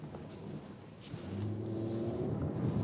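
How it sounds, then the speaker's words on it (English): A Jaguar F-Type R Coupé AWD 550 hp V8 running while being driven, a low, fairly quiet rumble that swells slightly as it gains revs. "And now you hear really that the engine is working."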